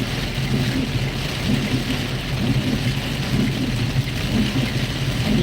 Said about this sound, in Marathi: जोरदार मुसळधार असा पाऊस